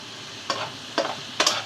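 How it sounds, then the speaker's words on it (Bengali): Homegrown vegetables with ginger-garlic paste, turmeric, coriander, dried chili powder, salt and green chilies are stirred in a pan over a low sizzle. Three distinct scraping strokes of the spoon sound close and sharp. "এখন সব কিছু ভালো করে কষিয়ে নেব"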